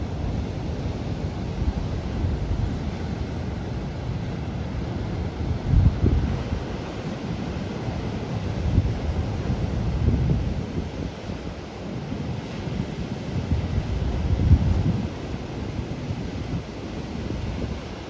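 Waves break in a stormy shorebreak, a low rumbling surge with recurring heavier crashes, heard under steady gusts of wind buffeting the microphone.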